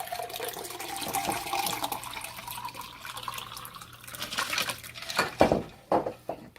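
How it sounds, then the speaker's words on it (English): Iced tea chilled in the refrigerator is poured into a drinking glass, a steady liquid splash running for several seconds and ending with a few louder clinks and sloshes near the end. "poured it in my drinking glass"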